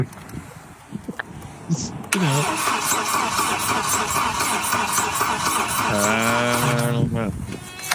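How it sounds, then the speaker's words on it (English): Car engine cranking and turning over, a project car for sale: a loud, close starter grind with rhythmic pulses that runs for several seconds, with a short whine-like sweep near the end. "He's showing that it turns over."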